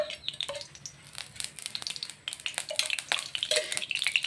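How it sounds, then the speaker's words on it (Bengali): Mustard oil crackles and sizzles softly in a kadai, with light scraping and clinks of a utensil against metal. "এখানে আমি 2-3 চামচ তেল দিয়ে দিচ্ছি।"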